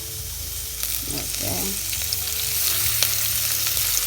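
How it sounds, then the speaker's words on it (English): Onions fry in plenty of oil for goat meat pilau, a steady close sizzle throughout, with brief stirring sounds and a short spoken word. "We are frying the onion."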